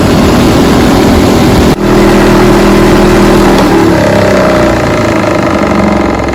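Homemade free-energy generator motor spinning at roughly 24,000 RPM, a loud, continuous high-speed whirring drone with a brief dropout near the start, then a steady whine with slight pitch shifts.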